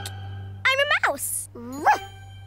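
In a children's cartoon, a voice imitates a dog, giving a few quick yapping barks and then a whiny, rising bark, close and clear over a low steady hum.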